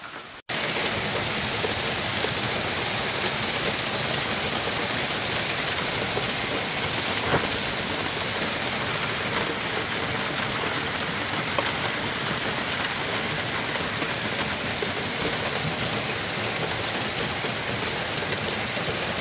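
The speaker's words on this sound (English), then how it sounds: "Okay, it started raining really hard." Heavy rain pouring steadily on a forest campsite beside a creek, a dense unbroken hiss that starts abruptly and stays loud throughout, with faint thunder rumbling underneath and no voices.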